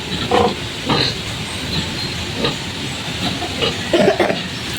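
Pigs on a farm grunt and squeal in several short bursts, close and fairly loud, over a steady hissing background with no voices.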